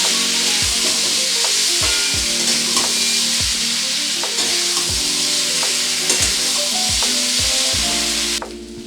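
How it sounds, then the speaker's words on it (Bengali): Papaya and potato pieces fry loudly with spices, tomato, ginger and green chili paste, sizzling continuously while a utensil scrapes and stirs in regular strokes, close and alone. "এবারে সমস্ত মশলা দিয়ে খুব ভালো করে পেঁপে আলুর সাথে কষিয়ে নেব"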